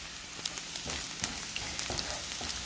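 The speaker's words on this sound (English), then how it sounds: "So I'm just gonna toss the garlic in." Garlic tossed into a hot pan crackles and sizzles steadily, with bright spitting pops and a few scraping stirs close by, no talking over it.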